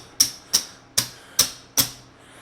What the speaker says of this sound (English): That sound is nice when it's all green and black chips.